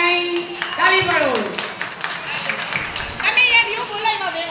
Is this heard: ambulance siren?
no